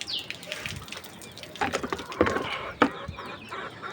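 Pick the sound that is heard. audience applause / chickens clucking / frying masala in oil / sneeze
chickens clucking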